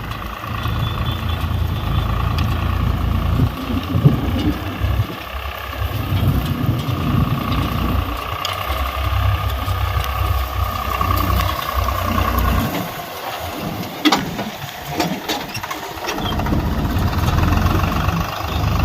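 A tractor engine runs steadily and loudly throughout, a heavy low idle-to-working drone with slight swells while the tractor backs up on a rainy village farm during manure spreading.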